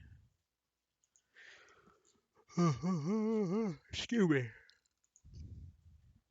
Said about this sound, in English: I'm clicking on the wrong thing.